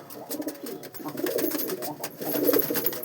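Racing pigeons coo softly in a loft, a few low repeated throaty coos over faint background rustle, with no talking.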